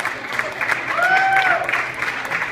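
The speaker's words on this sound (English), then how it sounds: "let's receive with a nice, warm round of applause" Audience applause and some crowd noise welcome a speaker at a high school baseball fundraiser, a loud steady patter across the room with a voice heard over it.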